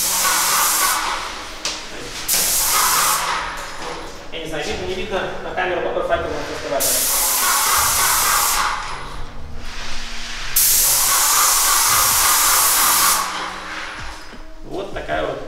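An ASTECH ASM-3200 airless sprayer sprays adhesive in several long hissing bursts, loud and close, with someone talking between and over the spraying.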